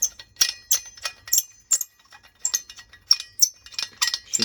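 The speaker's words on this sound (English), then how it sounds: "Sorry about the noise, it's a bit squeaky because obviously these haven't been off in years." A threaded insert on a vintage Bialaddin lamp, stiff after years unopened, squeaks as it is screwed on, in a run of short sharp bursts with brief gaps between them.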